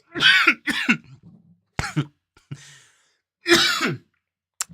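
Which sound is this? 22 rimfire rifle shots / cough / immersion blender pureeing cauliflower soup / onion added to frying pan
cough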